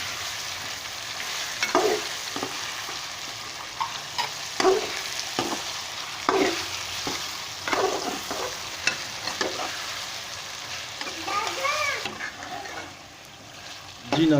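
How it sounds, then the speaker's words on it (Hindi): Meat frying in a pan with ginger, garlic and green chili paste for a ridge gourd and meat curry, giving a steady sizzle with repeated stirring and scraping strokes throughout, close and moderately loud. "अदरक, हरी मिर्च और लहसुन का पेस्ट है वो भी अच्छी तरह भून चुका है।"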